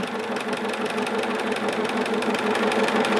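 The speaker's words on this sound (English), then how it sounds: "as we stitch, they look like they would be about the same as if I was sewing them" A Bernina 770 sewing machine stitching steadily during free motion quilting, a continuous close mechanical whir with a fast, even needle rhythm and no talking.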